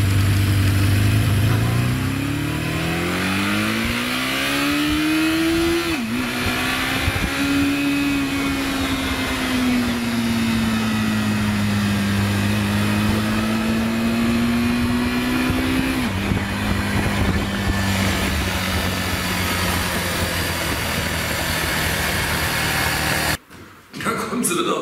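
Engine of a moped or café racer motorbike riding home along a road, a steady continuous drone that rises and falls gently in pitch with speed changes, loud and close throughout.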